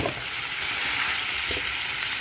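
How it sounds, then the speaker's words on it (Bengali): Fried paneer pieces are stirred into a thickening chili sauce in a pan over high flame, producing a close, continuous hissing sizzle with faint stirring scrapes and no talking. "হাই ফ্লেমে ভালো করে নাড়ান। দেখুন সসটা কেমন একটু ঘন হয়ে এসছে। সেই সময় আমরা দিয়ে দিলাম পনির ভাজাটা।"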